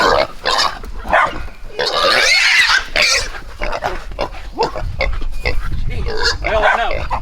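Pigs of about 100 pounds squeal and grunt in loud, irregular bursts, mixed with dog barks and people talking nearby.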